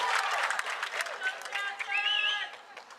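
A large crowd at a pickleball match claps and cheers steadily, a bright wash of applause with a commentator talking over it.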